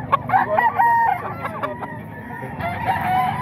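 A Sweater-bloodline gamecock rooster crows loudly and close, a ragged drawn-out call with a short cluck, while someone talks quietly nearby.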